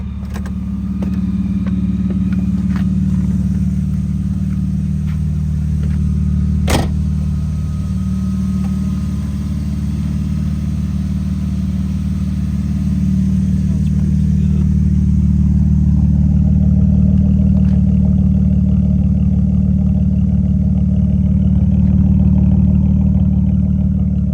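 A BMW E36 engine fitted with new Dinan ignition coils idles steadily and close, a smooth low hum with a slight rise in level toward the end and one brief click partway through, no talking.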